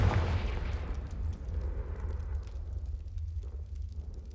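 Confringo explosive spell cast in the video game Hogwarts Legacy, a booming fiery blast that opens loud and rolls into a rumbling, crackling fade.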